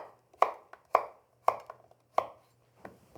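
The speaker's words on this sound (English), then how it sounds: "Just gonna cut the top off, cut it lengthwise." Crisp knife strikes through zucchini onto a cutting board, five or six distinct chops in an uneven rhythm, close and clear with a quiet background.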